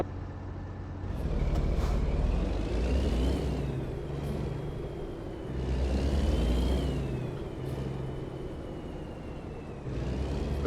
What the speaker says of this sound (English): let's start the truck and pull out of this yard and head to San Diego